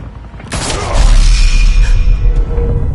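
A single loud gunshot in a Batman video game, a sharp crack that bursts into a shattering, booming blast with a lingering rumble, no voices.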